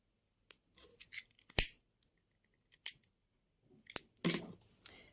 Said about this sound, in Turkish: Sonuncu yuvaya battıktan sonra ipimi kesiyorum.